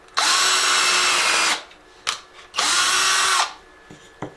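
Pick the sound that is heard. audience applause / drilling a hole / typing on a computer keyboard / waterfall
drilling a hole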